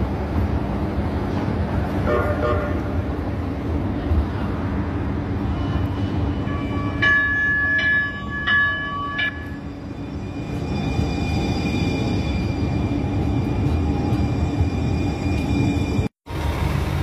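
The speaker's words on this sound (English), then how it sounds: "These are the Gold Line trains in Uptown Charlotte." Gold Line light rail trains in Uptown Charlotte rumble steadily past nearby, with brief high metallic squeals and tones in the middle, then a sudden sharp break near the end.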